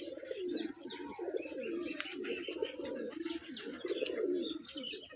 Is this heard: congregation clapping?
no